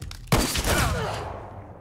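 Gunshots in The Walking Dead: Michonne video game: one loud, close blast that booms out and decays over more than a second, following a short quiet stretch.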